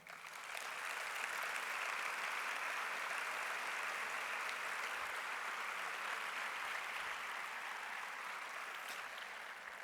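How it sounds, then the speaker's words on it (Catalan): Sustained applause from a large audience at a foundation's closing event on Alzheimer's research, a steady dense wash of clapping for about ten seconds, fairly distant and even in level, with no talking over it. "Per tots vosaltres, un gran aplaudiment"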